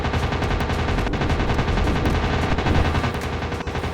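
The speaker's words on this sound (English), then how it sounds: "I'm being shot at." Rapid machine gun fire in the WW2 aerial dogfight game Warplanes: WW2 Dogfight rattles continuously and loudly, with dense repeated bursts and occasional sharper impacts.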